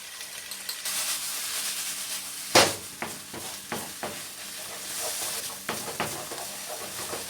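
Onion, green onion and Cheongyang chili stir-frying with seasoning sauce in a pan for mapo tofu, a steady close sizzle with several sharp scraping clatters of a spatula stirring through it.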